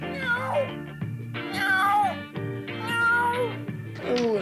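A person's voice imitates a cat meowing, with several drawn-out, wavering meows in a row, loud and close.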